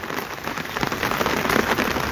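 Heavy monsoon rain in Shimla, pouring steadily as a dense, loud hiss and patter on surfaces, continuous throughout with no voices.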